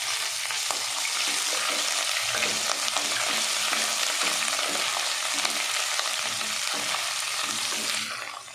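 Onions with ginger and garlic fry in a pan for kala chana pulao, giving a dense, continuous sizzle with faint stirring scrapes, close and steady throughout.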